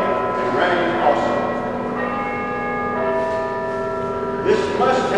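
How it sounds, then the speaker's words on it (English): Several bells ring together in a sustained, layered clang, with fresh strikes rising over a lingering ringing hum; a voice speaks faintly beneath. "the bells began to toll, first softly, then so loudly that every bell in the house joined in and rang also"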